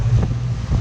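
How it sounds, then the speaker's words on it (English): Strong wind buffets the microphone outdoors in the Arctic, a steady low roar with gusty swells across the whole short moment, with no voices. "It was pretty windy out there."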